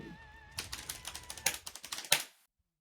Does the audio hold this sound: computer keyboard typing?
yes